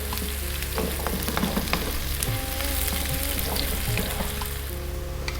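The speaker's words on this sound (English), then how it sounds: "we really do need to cook the onions until they change color" Onions fry in a pan for a lamb tariwala curry, giving off a dense continuous sizzle with faint clinks and stirring scrapes scattered through it, close and fairly loud.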